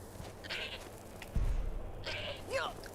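A goat bleats in the Skyrim video game, two short wavering bleats over a steady game background with a low thump between them.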